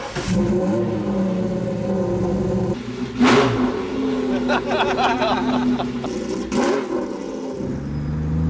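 A Ferrari F50 with a Capristo exhaust rumbles steadily and loudly up close, with a couple of sharp rev blips rising above the drone; people talk and laugh over it.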